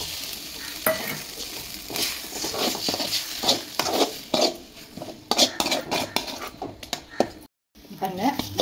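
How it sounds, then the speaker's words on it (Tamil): Egg stirred into sautéed drumstick (moringa) leaves in a pan, with a utensil scraping and clattering against the metal over a soft frying sizzle, fairly close and steady, briefly cut out near the end. "முட்டை உடச்சி ஊற்ற போறேன் ஊற்றிட்டு நல்லா கலந்து விடணும்"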